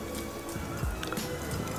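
Hazy New England Brewing Fuzzy Baby Ducks beer, a 6.2% ABV IPA, is poured generously from a can into a glass, giving a soft, steady liquid gurgle and fill sound with faint wet splashes, heard close and alone.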